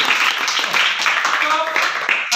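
Schoolchildren in a classroom clapping for a classmate, a dense steady round of small hands under a murmur of voices.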